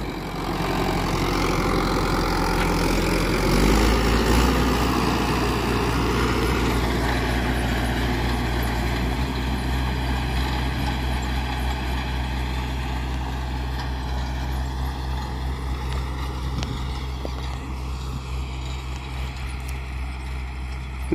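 Mahindra 585 XP Plus tractor engine working under load in a field, a steady loud diesel drone with deep low rumble that holds level throughout, faintly easing toward the end, with no talk.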